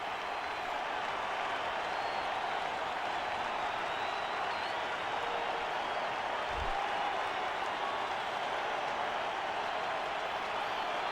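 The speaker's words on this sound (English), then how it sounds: "Crowd going crazy here." A baseball stadium crowd in MLB 11: The Show sustains a steady roar of cheering and applause with the bases loaded, even and unbroken throughout.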